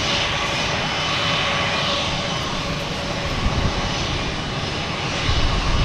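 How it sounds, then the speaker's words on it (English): Delta Embraer E-175 jet airliner landing at Boston Logan, a loud, steady engine roar and rushing whine that holds throughout without any voices. "All right, here's a Delta coming in."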